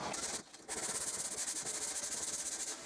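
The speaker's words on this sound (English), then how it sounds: "Next, I can sand the edges," Steady hand sanding along the edges of a wooden mid-century modern coffee table, a continuous close scratchy rubbing with a brief pause near the start, no voices.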